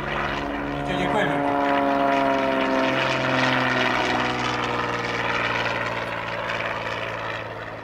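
A Zlin Z50LX aerobatic propeller plane flies at an air show, its engine droning loudly and dropping in pitch as it sweeps past, then holding a steady roar, with faint talk mixed in.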